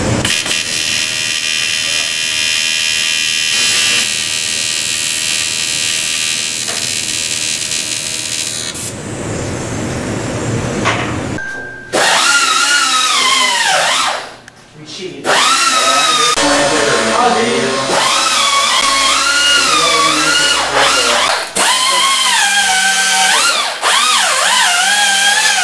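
A power tool whirs steadily while polishing a robot frame in Team 20's 2013 build-season workshop, loud and continuous for about nine seconds before cutting off, after which people talk.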